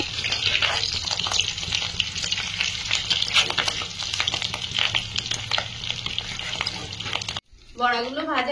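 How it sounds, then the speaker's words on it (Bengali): Fish roe fritters frying in hot oil in a frying pan give a loud, steady sizzle and crackle, close and continuous, cutting off abruptly near the end. "বড়াগুলো ভাজা হয়েছে, প্লেটে তুলে নেব। বাকিগুলো এই তেলে ভেজে নেব।"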